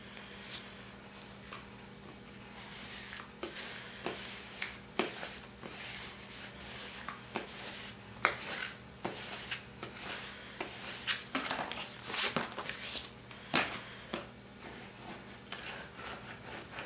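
A clear application mask is rubbed down over a vinyl jersey number on its carrier, giving repeated close scraping and rubbing strokes in an irregular rhythm, with no talking.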